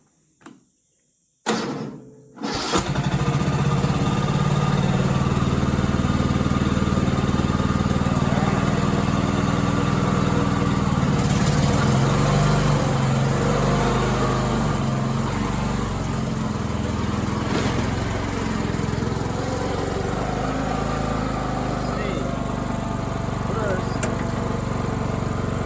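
A homemade racing lawn mower engine catches after a couple of short cranks, then settles into a loud, steady running drone close by that lasts the rest of the stretch.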